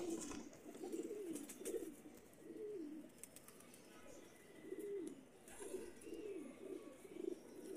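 Breeder's pigeons, golden Teddy Firozpuri birds in a new loft setup, coo in a steady run of low throaty phrases that repeat close by, with faint chirps and light background noise around them.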